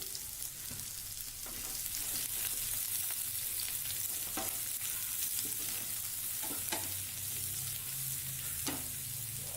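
Sliced onions and green chillies sizzle and fry steadily in hot oil for a cauliflower curry, a continuous close crackle with occasional sharper pops and faint stirring, no voices.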